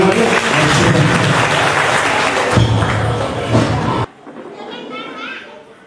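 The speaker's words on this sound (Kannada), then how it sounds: "ಜೋರಾಗಿ ಚಪ್ಪಾಳೆ." A crowd at a retirement farewell ceremony for a land surveyor breaks into loud, dense applause that holds for about four seconds and then cuts off, leaving quieter room noise.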